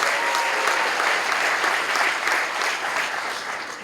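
A conference audience applauding and cheering, dense sustained clapping from a large crowd that holds steady for several seconds before easing slightly.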